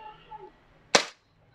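A single sharp crack from a silver chrome WE Beretta M92 airsoft gas blowback pistol, loud and close, followed by quiet.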